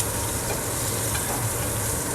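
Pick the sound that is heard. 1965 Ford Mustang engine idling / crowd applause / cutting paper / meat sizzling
meat sizzling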